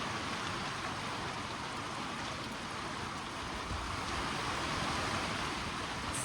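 Rain falling outdoors, a steady broadband hiss of drops that stays even and fairly soft throughout, with no voices or distinct events.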